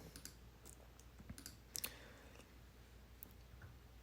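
Faint, sparse computer mouse clicks in a quiet room while working in Photoshop, with a couple of sharper clicks near the middle and a last one at the end.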